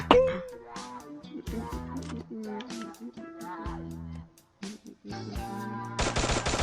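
Gunfire in the Free Fire video game comes as sharp rapid bursts and single shots mixed with game music, ending in a dense loud volley.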